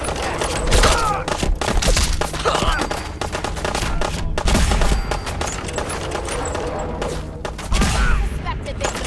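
Dense, sustained gunfire in the video game Fallout 4, rapid overlapping shots and booms, loud and continuous, with a voice shouting briefly over it.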